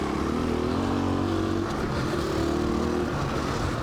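Husqvarna FE 501 and KTM 500 EXC-F dirt bikes riding on a wooded trail with sand and berm corners, a steady loud engine drone with slight revving changes, close and continuous.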